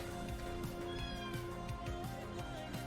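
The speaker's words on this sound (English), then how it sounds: "Hey, little kitten is back." A small kitten meows faintly a few times beneath a steady layer of soft background music.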